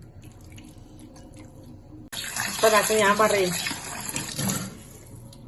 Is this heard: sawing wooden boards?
no